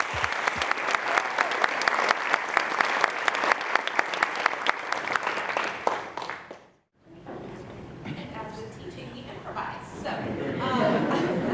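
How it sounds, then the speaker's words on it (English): A university event audience applauds a teacher panel for about six seconds, then the clapping cuts off sharply and the room murmurs with scattered chatter and laughter. "Let's give our teacher panel a big round of applause for sharing their stories today."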